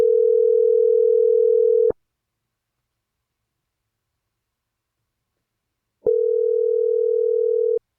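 Telephone tone during an outgoing call: two steady, loud, continuous electronic tones, each about two seconds long, separated by four seconds of silence.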